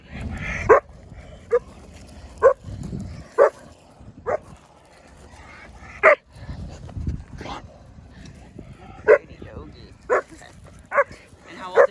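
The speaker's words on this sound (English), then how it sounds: "At first glance, this dog looks wildly aggressive." An under-socialized dog barks in sharp, separate bursts, about a dozen over several seconds, fairly close and loud, with quieter whimpering and yips in between.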